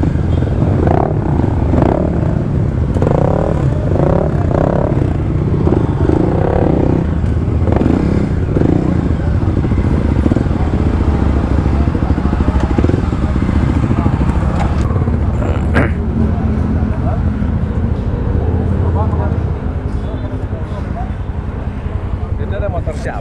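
A motorcycle engine, a blue Kawasaki KLX trail bike, runs loud and close with a rough continuous rumble and wind buffeting over the microphone, while a rider speaks over the engine noise.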